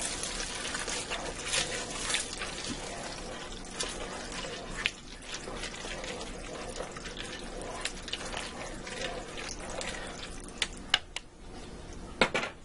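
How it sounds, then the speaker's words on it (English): Elbow macaroni is stirred in a pot inside a Ninja cooker, giving wet sloshing and scraping with scattered sharp clinks of the spoon against the pot, close and fairly steady throughout. "I have a 1 pound pack of elbow macaroni I'm going to add in here. And I'm going to stir that up well."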